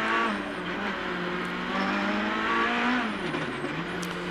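Rally car racing through the Col de Turini stage of the 2009 IRC Monte Carlo rally, a loud, steady engine roar with shifting revs sustained close by throughout, no talk.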